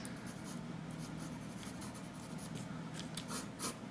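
Medium woodless charcoal pencil scratching over paper while sketching a mountain landscape with clouds, a close, soft, continuous rasp with brief quick strokes standing out.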